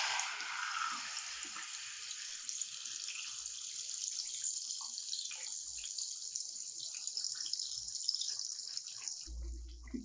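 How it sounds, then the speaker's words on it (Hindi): Marinated chicken dropped into hot oil in a kadai, giving a loud, continuous bright sizzle and crackle that holds steady for several seconds before easing slightly at the end. "अब हम यहाँ इसमें अपना मैरिनेट किया हुआ चिकन डाल देंगे।"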